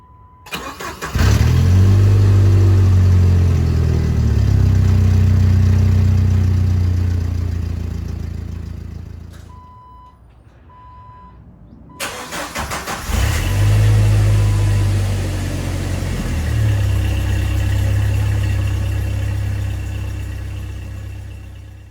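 A Jeep TJ with a 2.5L four-cylinder engine and a brand-new exhaust starts up and revs close by, swelling and falling in loud throaty pulls, briefly cutting to near quiet before restarting and revving again.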